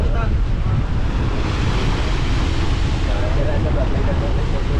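Strong wind buffets a boat at sea near the island off Atimonan, Quezon, with big waves washing against the hull in a loud, continuous roar of wind noise and surf; a voice speaks under it.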